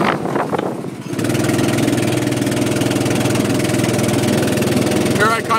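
A go-kart engine runs at a steady, buzzing idle close by. It starts after a brief moment and holds loud and even, with a voice speaking over it.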